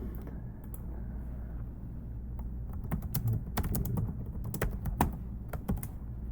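Rapid, irregular keystrokes on a computer keyboard as a question is typed into an online Q&A box, close and fairly quiet over a steady low background hum.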